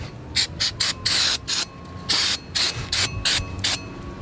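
Brake cleaner sprayed onto a new front brake rotor for a 1998-2002 Subaru Forester, sounding as a string of about ten sharp, close hissing bursts of varying length with brief pauses between them.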